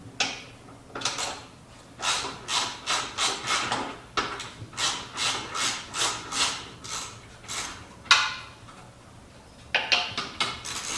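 A ratchet wrench works 13mm bolts off the rear bumper of a Jeep JK, giving repeated bursts of rapid clicking in a steady rhythm, close and clear, with short pauses between runs.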